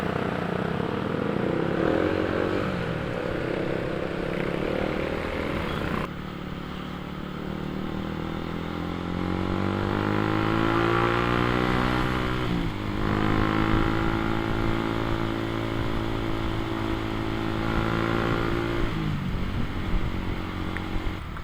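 Heavy, congested road traffic dominated by large vehicles surrounds a touring motorcycle near Krian; a loud, close engine drone runs throughout, its pitch climbing and sagging as vehicles accelerate and slow, with no voices.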